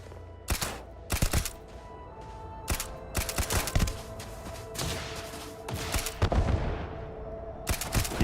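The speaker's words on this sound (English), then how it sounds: "Did you shoot that?" Gunfire in the video game Starfield: repeated sharp shots in irregular bursts and single cracks, some close and loud, others trailing off, spread across the whole stretch without talk.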